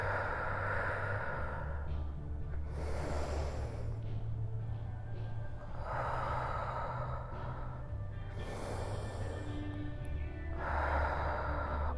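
Slow, deep breaths during a stretching exercise come close and clear, with about three long inhale-exhale cycles of airy rushing, unhurried and evenly spaced with no talking.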